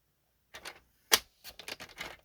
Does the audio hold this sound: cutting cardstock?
yes